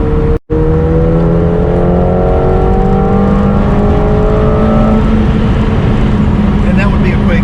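A 2020 McLaren 720S twin-turbo pulls hard in fifth gear from inside the cabin, a loud, rising engine note climbing in pitch for several seconds, with people talking over it.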